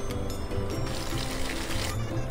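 Water is poured onto a potted plant, a light, steady splashing and trickling close by that runs for a couple of seconds with no voices over it.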